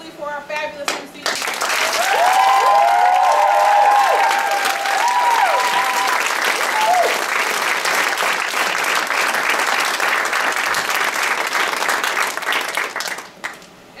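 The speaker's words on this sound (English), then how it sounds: "clap, clap, clap endlessly for our fabulous MCs" Steady applause from an awards-night audience fills the room, loud and sustained for over ten seconds with a few whoops, then fading near the end.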